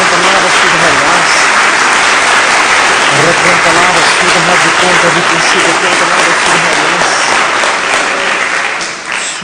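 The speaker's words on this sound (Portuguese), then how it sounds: "Dê uma salva de palmas a Jesus." A church congregation gives loud, sustained applause during worship, the clapping dense and continuous beneath a voice singing or chanting over it.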